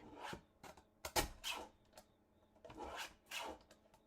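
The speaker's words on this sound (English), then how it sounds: "So we're going to trim here." A paper trimmer slices through cardstock while a DIY swing card is being made, heard as several brief, close rasping cuts and clicks scattered across a quiet room.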